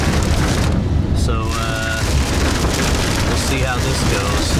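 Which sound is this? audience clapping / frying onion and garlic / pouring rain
pouring rain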